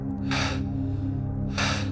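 A narrator voices two sharp, breathy gasps in a Spanish-language horror story, spaced about a second apart over a steady low droning background.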